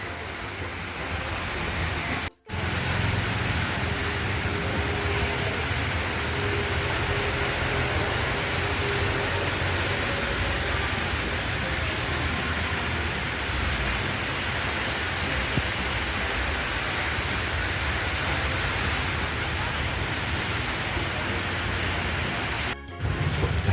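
Rain falls steadily at Pak Kret market, a dense, even hiss that holds unbroken for the whole stretch with only a brief dropout early on and near the end.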